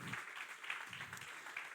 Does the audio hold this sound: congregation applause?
yes